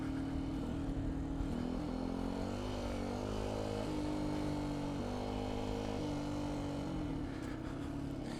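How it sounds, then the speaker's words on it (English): A 2019 Beta 125 RR-S dirt bike engine drones steadily nearby on a trail, its pitch rising and falling as it revs and shifts while riding along. "So this motorcycle does great on this flowy stuff."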